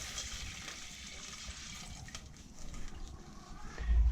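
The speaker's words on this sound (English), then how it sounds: "now we're going to add our chicken stock" Chicken stock goes into a hot pan for a saffron cream sauce, a soft continuous watery pour and bubbling, fairly quiet, swelling a little toward the end.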